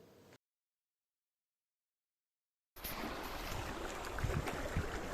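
A river flowing steadily, heard as a continuous broad rush of water at moderate loudness, beginning after a short gap of silence and running to the end.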